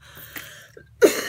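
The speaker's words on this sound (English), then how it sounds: "apologize for the coughing." A single harsh cough bursts out near the microphone after a brief quiet stretch with faint breathy sounds.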